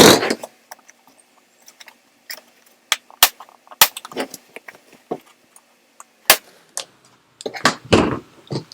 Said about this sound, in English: And then we'll put it in the battery compartment